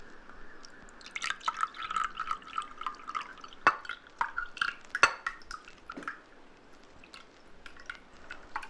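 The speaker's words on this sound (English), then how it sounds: "So I'm just going to pour some more water into the tea," Water poured into a cup of tea, with a soft trickle and scattered drips and small clinks. Two sharper taps stand out near the middle, and everything stays quiet and close.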